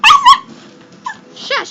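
Diesel the dog lets out a couple of sharp, close yips, then short whimpers, in a quiet room.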